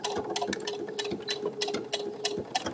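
A sewing machine stitches in quick, even bursts, its needle thumping heavily as it pushes through many thick layers of a bag with a metal zipper, close and fairly quiet.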